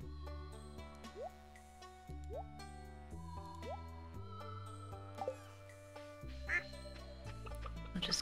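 Quacking of a duck in the video game Stardew Valley, several short quacks heard over soft, melodic background music with plucky game sound effects, fairly quiet overall.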